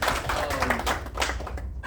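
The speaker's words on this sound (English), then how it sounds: "Give yourselves a round of applause." An audience at a book signing claps for the authors, a dense patter of many hands slapping close and steady throughout, with no voices over it.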